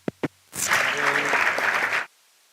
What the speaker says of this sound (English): A big round of applause for Mr. George.